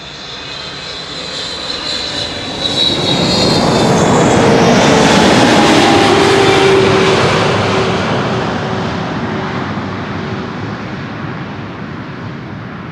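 A KLM Boeing 777-300 at Amsterdam Schiphol Airport roars loudly past, a broad jet-engine rush swelling over several seconds, peaking mid-pass and then slowly fading, with no voices over it.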